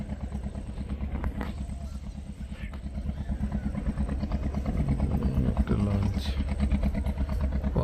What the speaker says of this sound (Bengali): সুন্দরবনে টুরিস্ট যাওয়া শুরু হয়ে গেছে একের পর এক লঞ্চ আসছে